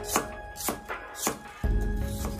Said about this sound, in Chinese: 然后斜刀给它切成薄片